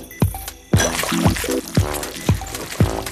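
Liquid pouring from a tap in a cartoon, a gurgling splashing stream with rhythmic glugging pulses roughly every half second, close and fairly loud.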